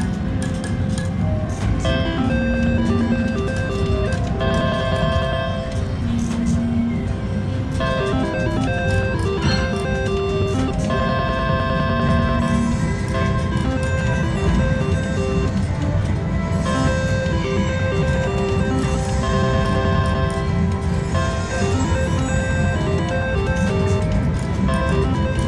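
A Sweet Tweet 2-cent slot machine at the Ho-Chunk Casino spins on a 40-cent bet, giving off a steady, loud stream of bright electronic jingles, chiming tones and glassy clinks over a dense casino floor din, with no talking.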